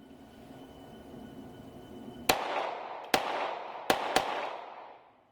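FN 502 .22lr pistol shots at a range: four sharp cracks in an uneven rhythm, each with a short ringing tail, over a faint low background.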